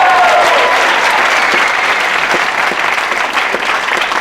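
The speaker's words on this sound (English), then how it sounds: "Maybe we'll go to an 8 applause?" An audience at a comedy show claps steadily at a fairly strong level, a continuous dense patter of many hands with a few sharper individual claps standing out near the end.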